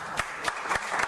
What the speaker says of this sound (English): Let's give a round of applause to all these women.